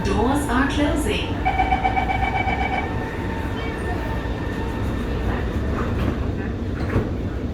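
R151 metro train running between Bedok and Pasir Ris in Singapore, a loud onboard rumble with a rising whine and tonal motor notes, carrying steadily under faint announcement-like voices.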